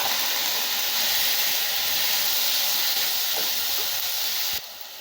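Radish pieces sautéing in a pan with tomato and green chili give a steady, close hiss of sizzling oil that holds level for most of the stretch, then drops away sharply near the end.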